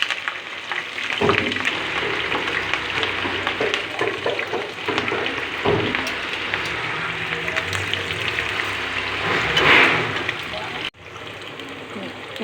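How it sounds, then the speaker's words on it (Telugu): Onions fry in a pan with spices for bagara rice, giving a steady close crackling sizzle that swells briefly near the end before dropping, with no talk. "ఇప్పుడు ఉల్లిగడ్డలు వేగిపోయినవి"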